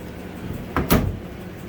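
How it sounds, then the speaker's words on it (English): The front-opening door of a Maytag commercial washing machine swung open, a short close clunk and latch release followed by a softer knock, over quiet room noise. "And the door opens like a normal refrigerator door."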